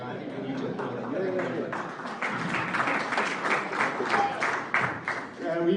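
Clapping from the audience at an Industry 4.0 panel discussion held at the CSIR in Tshwane, moderate applause mixed with chatter and voices nearby.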